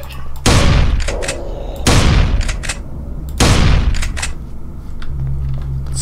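Three loud, heavy bursts of gunfire from a free gun in the video game Invention II, each a sharp booming blast that trails off over about a second, evenly spaced with a low steady hum between them.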